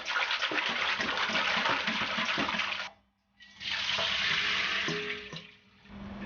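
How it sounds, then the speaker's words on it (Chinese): Sliced bitter melon is washed in a small basin of water: a steady splashing, swishing rush runs for about three seconds, pauses, then resumes loud and close before fading. "加适量清水，清洗2遍。"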